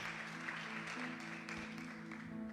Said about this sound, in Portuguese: Pode aplaudir mais forte, amém?